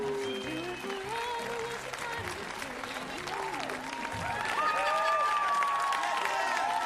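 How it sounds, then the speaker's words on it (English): Studio audience applauding and cheering at the opening of a talk show, a sustained crowd roar of clapping with voices mixed in throughout. "A huge crowd applauding."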